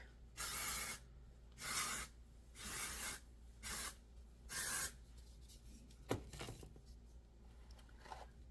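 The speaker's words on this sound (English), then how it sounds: "Do a little bit of dry shampoo" Dry shampoo sprayed onto thin, fine hair in five short hissing bursts at a steady rhythm, close and fairly quiet, followed by faint rustling and a small tap.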